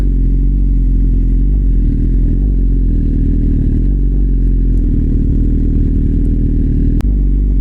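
BMW S1000RR sport motorcycle ridden off-road in Chilpi Ghati, its engine a loud, steady close rumble with clattering over rough ground and one sharp knock near the end.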